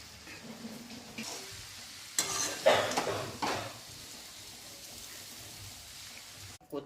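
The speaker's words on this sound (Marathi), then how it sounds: "त्यामध्ये मी हे नूडल्स घालून घेते" Noodles being stirred into masala in a hot pan, soft sizzling under scraping and clinking of a utensil against the pan, with a few louder stirring bursts in the middle, close and fairly quiet.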